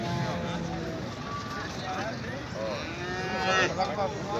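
At a busy outdoor cattle market, cows low and moo repeatedly in drawn-out calls that rise near the end, mixed with people talking and general crowd noise.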